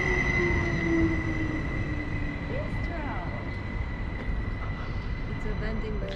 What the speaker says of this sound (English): And here is our inter-regional train coming in,